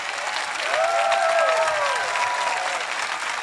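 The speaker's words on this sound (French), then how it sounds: "Voulez-vous applaudir fort?" A large audience at a church event claps loudly and continuously, a dense, sustained wall of applause with a few whistles and cheers rising above it before it begins to taper.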